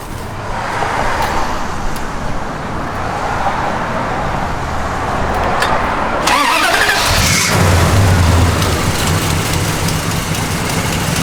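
A 1971 Dodge Demon's engine with an aftermarket cam turns over and catches about halfway through, settling into a loud, lumpy idle close by after a stretch of steady background noise.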